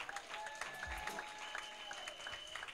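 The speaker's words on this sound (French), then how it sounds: "Est-ce qu'on peut acclamer les rois, les rois?" At a Christian café worship gathering, an audience applauds and acclaims in quick, fairly faint clapping with a few scattered voices.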